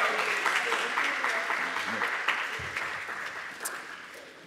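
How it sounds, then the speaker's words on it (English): An audience at a math teachers' evening event claps in a steady round of applause that gradually thins and fades, with some scattered voices underneath toward the end. "If you could give her a round of applause for that."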